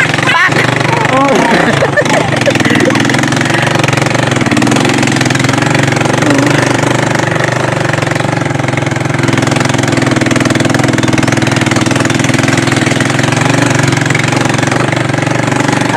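Motorcycle engine idling steadily close by, a continuous mid-low rumble running throughout with people talking over it.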